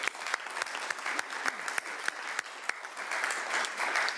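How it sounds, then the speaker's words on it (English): Applause at a city council meeting, a modest room of people clapping with distinct individual claps standing out, steady for several seconds. "How about a round of applause from Commissioner Macias?"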